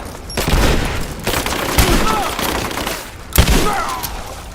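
Rapid gunfire in the Rise of the Tomb Raider video game fills the stretch: dense, loud bursts of shots recur in waves, with a few sharper close cracks standing out in the chaotic firefight.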